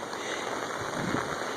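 Rain from a hurricane falls in a steady, even hiss on surfaces close by, with no voices heard over it.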